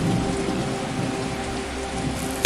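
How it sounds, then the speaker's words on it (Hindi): Heavy, steady downpour roars throughout, a dense constant wash of rain with a faint low rumble beneath it. The sound is loud and continuous, with no voices. "बाहर मूसलाधार बारिश शुरू हो चुकी थी।"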